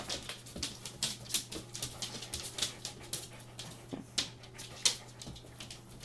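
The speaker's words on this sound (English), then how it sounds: "That's my dog that just walked in." A dog walking into a room whimpers softly and pants in quick, regular breaths close by, with faint yips and clicks over a low steady hum, no one talking.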